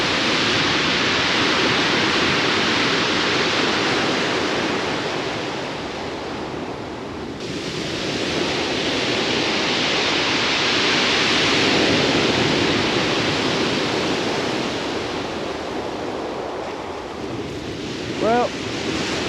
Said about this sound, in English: Oh, the waves are getting close.